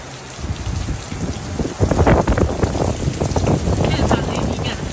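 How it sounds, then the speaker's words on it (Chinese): Violent wind and heavy rain lash down during a hurricane in New York, a dense, loud roar of rain with gusty surges that swell after the first couple of seconds and stay intense. "狂风暴雨啊！"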